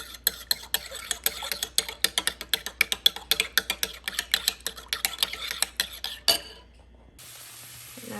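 A spoon mixing a sauce of coconut aminos and ground ginger in a bowl, rapid rhythmic clinking taps against the side for about six seconds, then a brief clatter and quiet.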